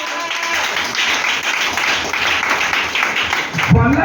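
A church congregation applauds in a steady, dense wash of clapping that holds evenly throughout, with a voice speaking over it near the end.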